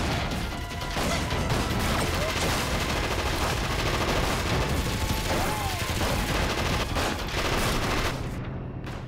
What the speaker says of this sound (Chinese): 枪声打得好凶啊